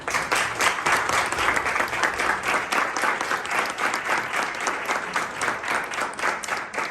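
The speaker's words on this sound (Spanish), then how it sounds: "démosle la bienvenida con un fuerte aplauso" An audience at a live talk gives a strong round of applause to welcome a doctor to the stage, a sustained, fairly loud wash of many hands clapping for about seven seconds without voices over it.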